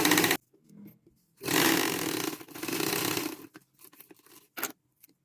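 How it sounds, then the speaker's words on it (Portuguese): A sewing machine stitching the hem of a cotton dish towel, running in two bursts of a few seconds each with short pauses between, close and fairly loud with faint handling sounds in the gaps. "Vamos à máquina, passamos a costura."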